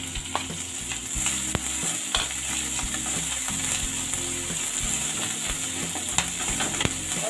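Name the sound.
green chilli and ginger frying in a pan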